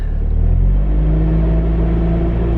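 A 200K-mile BMW E46 engine with a known exhaust leak runs near and loud while warming up, holding a steady rumbling idle with a slight rise in revs, continuous and alone with no voices.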